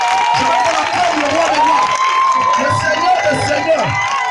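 A church congregation erupts in sustained cheering, shouts and whoops of acclamation at a mission worship gathering, a dense, loud crowd roar with scattered applause and voices carrying throughout.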